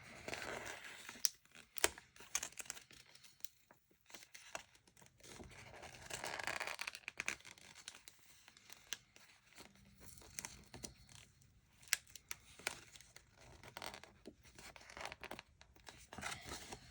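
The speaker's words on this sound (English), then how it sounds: "Try and pull this up without ripping the page." A sticker being peeled slowly up from a paper page in a Happy Planner, giving scattered faint crinkles and tearing rasps over about seventeen seconds, quiet and close.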